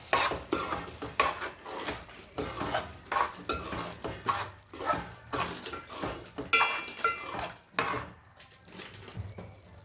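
Potato and spinach curry stirred in a pan, with repeated scraping and clinking of a spoon against metal over a faint sizzle, in a steady rhythm.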